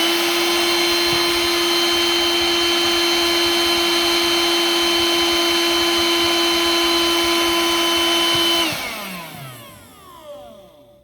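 A small Ryobi 18V cordless hand vacuum, Evercharge model, whines at a steady high pitch for several seconds, then switches off and spins down with a falling tone.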